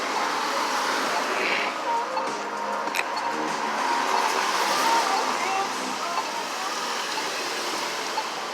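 Steady street traffic on Central Ave in Milton, cars rolling past continuously at moderate distance with a broad road hiss and a few brief passing swells, voices faintly present beneath.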